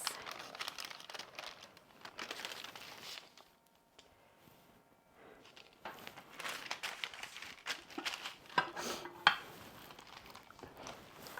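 Parchment paper crinkling and tearing in a kitchen, close and soft, with irregular rustling bursts, a brief quiet lull, then busier crackling and a few sharper rips.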